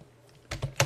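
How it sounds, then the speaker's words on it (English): Computer mouse buttons clicked while drawing in SketchUp: after a quiet lead-in, three crisp, close clicks in quick succession, with no talking. "So a few mouse clicks"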